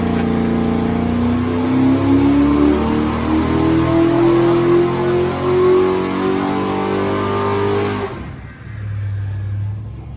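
A powerful 700-horsepower race car engine on a dyno holds a loud, steady rev that climbs gradually in pitch for about eight seconds, then abruptly cuts back to a lower idle rumble.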